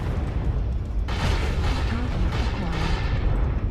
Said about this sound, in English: just unloading on him right now with these LB2s